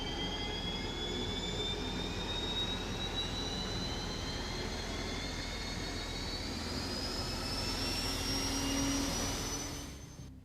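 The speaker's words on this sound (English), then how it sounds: "The M1 Abrams, upon engine startup, sounds more like a military aircraft getting ready to take off." M1 Abrams tank turbine engine in a video game spinning up, a steady loud jet-like roar with a high whine that climbs slowly in pitch and swells near the end before easing off.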